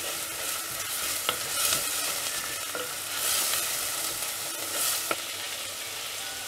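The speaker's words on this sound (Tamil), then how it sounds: "வெங்காயம் நல்லா வதங்கிட்டே இருக்கும்போது இதில் இந்த இஞ்சி பூண்டு பேஸ்ட் ஆட் பண்ணிடலாம்" Onions sautéing with freshly grated ginger and garlic in a clay mud pot, a steady gentle sizzle punctuated by a few distinct spoon taps and scrapes against the pot.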